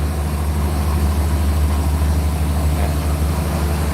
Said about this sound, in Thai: เรือมันดังมากมันสวนกันแป๊บหนึ่งนะ